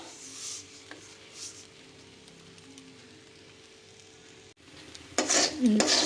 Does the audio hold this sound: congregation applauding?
no